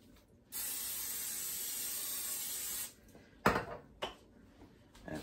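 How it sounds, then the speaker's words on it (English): Cooking spray hisses into a 13 by 9 inch baking pan in a single steady burst of about two seconds, close and clear. A couple of light clinks follow as the pan is handled. "I'm gonna spray my 13 by 9 inch pan here."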